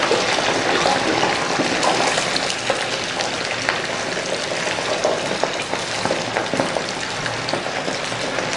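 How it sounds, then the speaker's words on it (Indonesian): Potatoes for perkedel fry in hot oil, a dense, continuous crackling sizzle with scattered pops, close and steady throughout with no talk. "Kita goreng kentangnya."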